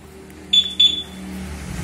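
A motorcycle alarm set fitted to a Yamaha NMAX gives two short, loud, high electronic chirps in quick succession over a low background hum.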